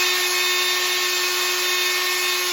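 A helmet visor is wet-sanded by hand with 1200-grit paper against a loud, continuous high-pitched power-tool whine that holds steady throughout.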